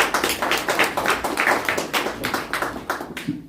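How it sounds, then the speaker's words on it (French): An audience at a literary café event claps for a gentleman, a dense and continuous patter of many hands, close and fairly loud, tapering off at the very end. "Rien que pour ça, applaudissons pour ce monsieur."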